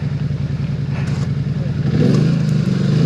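A Polaris Sportsman ATV engine revs hard and close in mud, a steady rough roar that surges louder partway through as the throttle opens.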